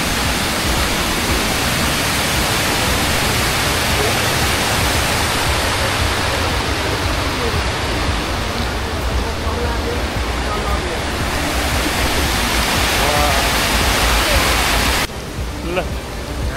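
A forest river rushes loudly and steadily, a dense, unbroken roar of flowing water that briefly drops away near the end before resuming.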